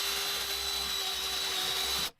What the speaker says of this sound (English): Then I can drill it